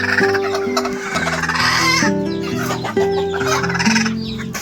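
Several native chickens of different breeds cluck loudly and continuously close by, their overlapping calls forming a busy, tonal chatter without any speech.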